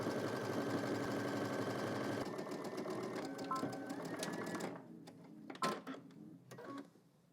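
Sewing machine stitching a bag seam from top to bottom, a steady fast mechanical whir for several seconds that slows and stops, followed by a few short clicks and bursts as the machine halts.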